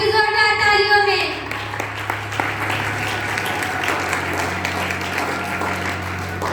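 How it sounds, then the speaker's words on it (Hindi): A church congregation claps in a steady, moderately loud burst of applause that follows a voice at the start and carries on alone afterward. "आप सबकी जोरदार तालियों में"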